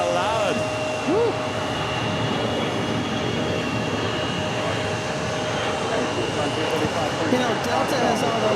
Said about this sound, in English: You know, Delta has all those loud engines.